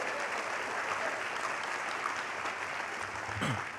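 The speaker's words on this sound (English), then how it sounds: "Please give him a round of applause." Steady applause from a Who's Who in Black Columbus event audience honoring Carter Womack, an even wash of many hands clapping at moderate distance, fairly soft throughout.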